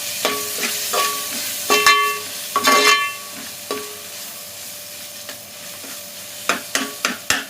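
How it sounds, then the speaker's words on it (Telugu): Ginger-garlic paste frying in a pan for a coconut milk pulao, with a soft steady sizzle broken by several sharp scrapes and stirring clatters of a spoon against the pan, no talking. "అల్లం వెల్లిపాయ పేస్ట్ వేసుకుందామండి ఒక రెండు స్పూన్లు పచ్చివాసం పోయిందాక వేసుకుందాం"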